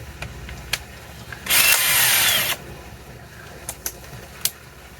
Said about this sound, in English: You just take your drill